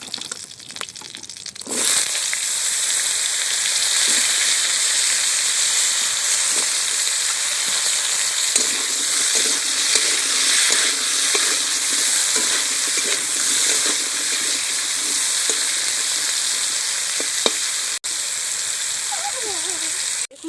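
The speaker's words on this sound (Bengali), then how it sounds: "এবার আমি ওই তেলে পুঁই শাকটা ভালো করে ভেজে নেব এবার ডাটাগুলো ভেজে নেবো" Malabar spinach leaves and stems frying in hot oil left from frying crabs, a loud steady sizzle and crackle starting abruptly after a brief pause and continuing throughout, with occasional stirring clinks and no talk.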